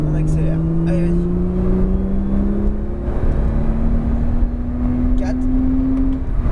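A Porsche 911 Turbo S accelerates on the La Ferté-Gaucher circuit, its engine tone climbing steadily inside the car beneath a broad road and wind rush, while someone speaks over it.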